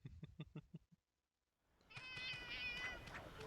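Palico cats in Monster Hunter Generations Ultimate let out a quick burst of short yelps, then a brief silence, followed by a longer drawn-out meowing wail over faint game sounds.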